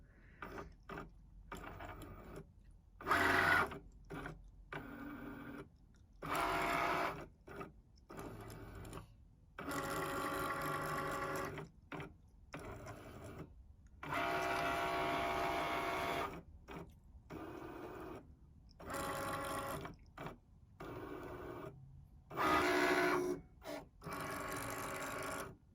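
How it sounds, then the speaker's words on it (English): A Cricut Maker cutting around printed paper ephemera, its motor whirring in repeated bursts of several seconds separated by brief pauses, close and steady with no talking. "So this is a Cricut Maker, and now it's just going to cut around everything."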